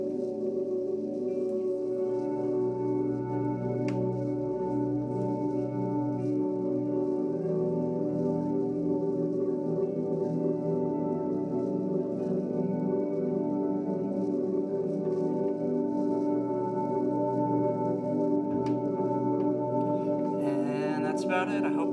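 Ambient guitar swells wash out through long delay and high-decay reverb, forming a dense sustained pad of overlapping trailing tones that stays level and continuous throughout, with a faint scratchy touch near the end.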